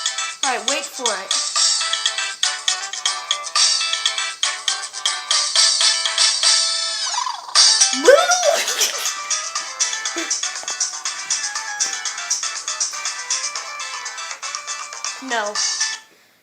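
A busy, bright electronic phone ringtone plays loudly and continuously for about sixteen seconds, with chirping melodic bursts and quick sliding tones, ending abruptly.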